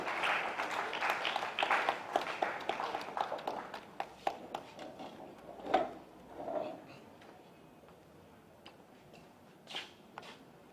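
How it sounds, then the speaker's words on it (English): Applause from an audience at a credit union cooperative's gathering as the board chair is invited up, dense clapping at first that thins out into scattered claps and fades. "thunderous applause, please"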